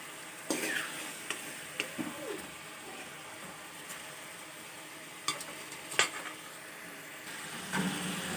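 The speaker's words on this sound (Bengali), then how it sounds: "চিকেনগুলো ভালো করে ভাজা ভাজা হয়ে গেছে এবার নামিয়ে নিচ্ছি" Steady oil sizzle of chicken frying, with occasional scraping clicks of a utensil against the pan, faint and continuous throughout, no voices.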